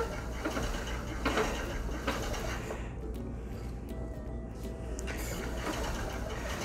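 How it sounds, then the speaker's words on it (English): A bobbin-led spinning wheel turns with a continuous soft whirring and faint rhythmic mechanical clicking, steady and close, with no talking. "This is a bobbin led wheel."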